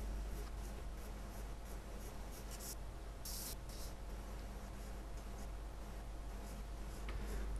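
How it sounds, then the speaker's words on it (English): Pencil scratching across paper as a curve is drawn for a sphere shading exercise, a faint continuous close-up scraping with a couple of brighter strokes, no voices. "we draw in the curve"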